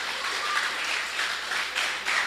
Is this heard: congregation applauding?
yes